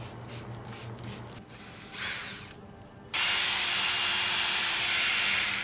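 A steady hissing spray of cleaner onto an Acura TSX valve cover starts partway through and continues loudly, following earlier scraping and tool noise, with no voices.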